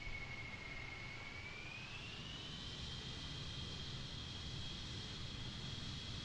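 Jet aircraft climbing after takeoff over Saba Island, heard as a steady, faint cabin-level engine roar with a whining tone that rises slightly in pitch partway through, with no voices.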